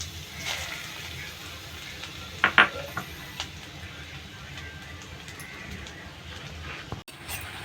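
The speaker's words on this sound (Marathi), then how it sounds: "हे आपण चांगलं आता ढवळून घेऊया." Modak filling of ghee, grated coconut and jaggery stirred in a pan: soft scraping and a low sizzle, a few sharper clinks of the spoon against metal, fairly quiet and close.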